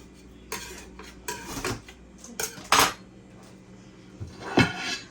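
Metal cake pan and a regular ceramic plate clatter and clink in a kitchen as a pound cake made from box mix is flipped out, several sharp knocks and scrapes spread irregularly across the moment, close and fairly loud.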